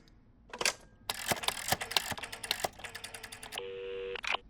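Cartoon telephone being dialed to make a single call: a run of quick, bright clicks and beeps, then a steady held dial tone near the end, loud and alone without talk.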